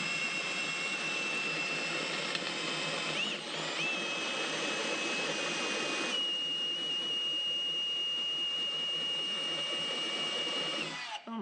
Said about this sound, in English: We didn't show you all the drilling.